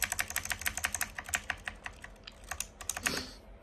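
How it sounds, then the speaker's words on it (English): Rapid keystrokes on a Royal Kludge RK61 compact keyboard, a steady run of crisp, close clicks at an even pace with no talking. "and then you're just gonna keep hitting your keys"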